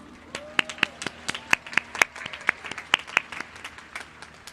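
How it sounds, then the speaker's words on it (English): Sparse clapping from a small group at a 2021 high school graduation ceremony, distinct separate claps scattered irregularly over a quiet hall rather than a dense roar. "Give yourselves a round of applause"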